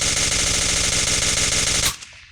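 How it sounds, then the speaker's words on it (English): A suppressed HK MP5 submachine gun firing in the World of Guns game, a rapid continuous rattle of muffled shots that ends abruptly with a short mechanical tail. "the suppressor, it doesn't really take all the sound away, but it does reduce the sound"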